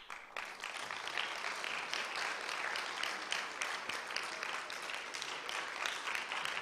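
Audience applause for institute staff at a conference closing plenary in Baku, steady dense clapping from many hands that carries on evenly, moderately distant, without breaks.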